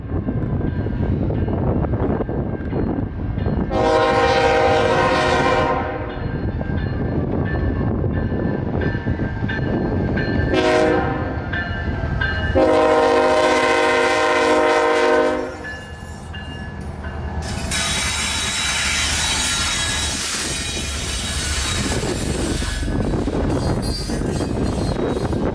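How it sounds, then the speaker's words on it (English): Norfolk Southern freight train NS 734, an orange-led coal train, rumbles loudly past with several long multi-tone horn blasts sounding in sequence, followed by steady rolling wheel noise and screeching. "The vibrant orange rounds the corner from downtown, signaling the arrival of NS Train"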